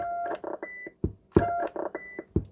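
Two short bursts of electronic roger beep tones from a Cobra 148 GTL-DX CB radio, each a quick run of pitched bleeps ending in a click, separated by a brief gap.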